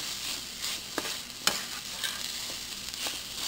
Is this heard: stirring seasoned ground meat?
yes